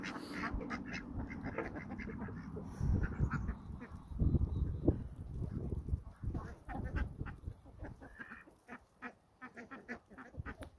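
Geese honking and squawking in a barnyard, a noisy cluster of close, loud calls that overlap and come in irregular bursts, with no talk over them.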